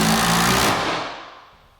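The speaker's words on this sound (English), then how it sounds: "So we'll put the other screws in" Screws driven in by a power drill during a mantle install, a loud close whirring burst that quickly winds down and fades.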